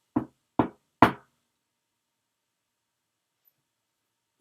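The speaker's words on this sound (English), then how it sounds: "She knocked on the door." Three sharp knocks on a door, close and distinct, spaced a little further apart each time, then a long silence before a faint fourth sound begins.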